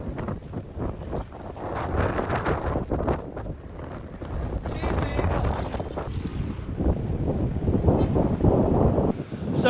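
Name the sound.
strong wind and big waves at a Nha Trang beach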